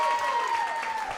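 A live comedy show audience applauds in a short, steady burst, with a faint tone running beneath it.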